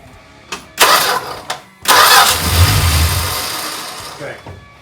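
A 1974 Dodge Dart with a no-start fault cranks in a couple of short bursts, then catches and roars into a loud, steady idle close by.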